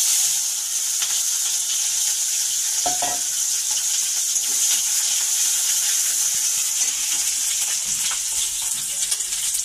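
Chopped onion sizzles steadily in hot oil in a frying pan, a loud continuous frying hiss with occasional stirring scrapes, close and alone without talk.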